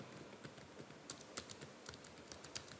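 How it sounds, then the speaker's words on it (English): Keys tapped on a computer keyboard while writing a Facebook post, a quiet, irregular patter of light clicks close by with no talking. "You can start typing here."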